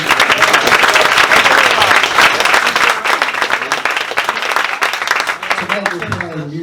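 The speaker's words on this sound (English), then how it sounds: "about a round of applause for Rockelle Fortin?" A jazz club audience applauds loudly and continuously for several seconds, dense clapping that tapers slightly toward the end.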